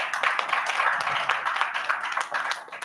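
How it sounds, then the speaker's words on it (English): A crowd claps steadily throughout, dense overlapping applause from a room full of people at a Toastmasters club meeting in Dubai, fairly loud. "Please give him a huge round of applause."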